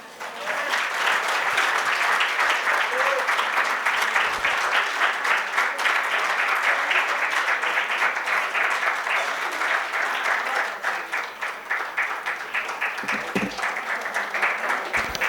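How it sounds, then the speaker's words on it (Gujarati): A crowd at a book launch claps continuously for about fifteen seconds, a dense, even wash of applause from many hands that stays loud throughout and thins slightly toward the end. "તાળીઓને હકદાર છે રાહુલભાઈ"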